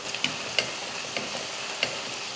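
An onion sizzles in a frying pan with a steady, moderate crackle, broken by a few light clicks of stirring.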